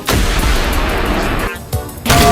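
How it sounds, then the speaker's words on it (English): A rocket launcher fires in the War Thunder tank game: a loud, close blast with a dense rumbling roar that holds, dips briefly, then surges again in a second burst at the end. "Rocket launcher!"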